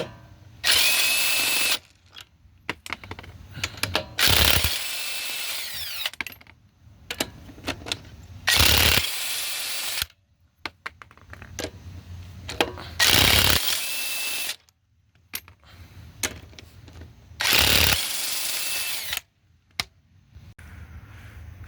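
Bursts from an impact power tool loosen 22 mm lug nuts on a 2015 Dodge Durango 3.6L, five or six loud whirring bursts of one to two seconds each, separated by short pauses with small clinks.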